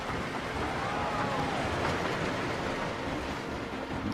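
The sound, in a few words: train passing in Planet Coaster video game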